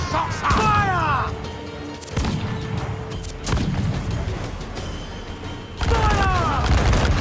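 Ship cannons firing in a naval battle in the Assassin's Creed 4 Black Flag video game: several heavy booming blasts in sequence with crashing impacts, under shouted crew voices and whistling projectiles.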